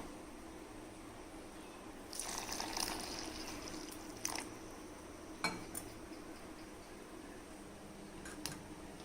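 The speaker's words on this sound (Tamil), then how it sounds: "இதை கொஞ்சம் கொஞ்சமாக நம்ம கலந்து விட்டுக்கலாம்." A spoon works milk into bourbon biscuit cake batter in a bowl: soft wet churning with several light clinks and scrapes against the bowl, fairly quiet and with no voices.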